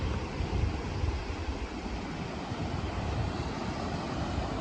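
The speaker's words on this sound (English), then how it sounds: "Waves are rolling in." Ocean waves roll in along a shoreline, a steady broadband wash of surf mixed with wind rumble on the microphone, continuous and fairly loud throughout with no speech.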